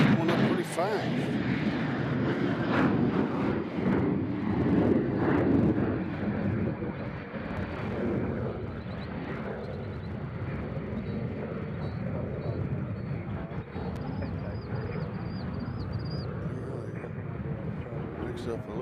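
An airplane taking off and climbing away from a runway at Nashville International Airport, a broad roaring engine rumble, fairly loud and fading slowly, with someone talking over it.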